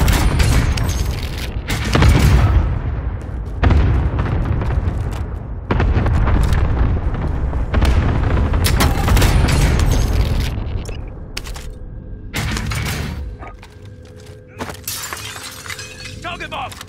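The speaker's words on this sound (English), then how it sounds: "Cluster strike away." Cluster strike explosions in Call of Duty Warzone Plunder mode, a rapid series of loud booming blasts and shattering impacts rolling across the first ten seconds before fading, with radio chatter voices over the barrage.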